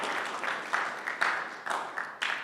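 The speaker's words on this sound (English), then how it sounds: "So a round of applause for every single of you guys." Audience clapping at a pre-event press conference for a fighting championship, a steady mid-level applause with a few sharper bursts running through the whole stretch.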